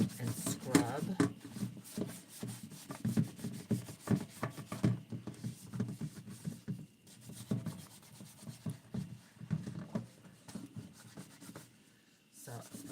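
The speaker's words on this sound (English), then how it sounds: "Now I'm going to use the rough side of my sponge and scrub." Rough side of a sponge scrubbing a used American Girl doll, repeated rubbing strokes in an uneven rhythm, close, mixed with talk throughout.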